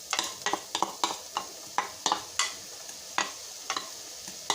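Chopped onions being added to a pan and stirred for homemade pizza sauce, with a run of sharp, close scraping and clattering strokes over a soft sizzle, heard alone without any talk.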